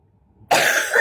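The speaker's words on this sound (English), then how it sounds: "have a cough" A single sharp cough bursts out after a moment of near silence, loud and close, with a brief rough tail.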